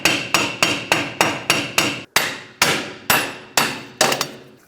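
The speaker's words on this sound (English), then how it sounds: "try to hammer the wheel bearing left, right, up, down, basically just unwedge it and walk it out" Hammer blows striking a rear wheel bearing to knock it loose from the hub of a 2012-2020 Ford Focus, eleven sharp metallic strikes in a steady rhythm with a brief pause midway, close and loud.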